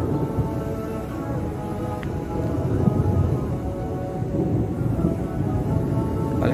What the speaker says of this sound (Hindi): शायद आपको बादल गरजने की आवाज़ आ रही है।